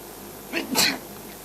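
A person lets out a single sudden sneeze, a short sharp burst in a quiet outdoor setting, with a brief intake just before.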